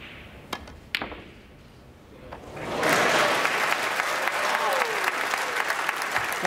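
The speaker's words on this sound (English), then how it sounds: "A round of applause" Snooker audience at the 2014 Masters breaks into loud, sustained applause after a few scattered early claps, the clapping continuing steadily to the end.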